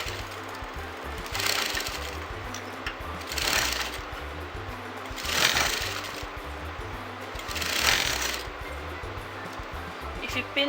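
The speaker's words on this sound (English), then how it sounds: "pinning the line together and then sewing that like this" A sewing machine stitches pin tuck lines on fabric, running in four steady bursts of rapid mechanical whirring separated by brief pauses, fairly close and with no talk over it.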